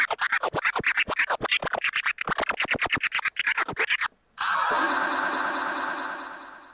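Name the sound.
DJ scratch sample played with trans pad FX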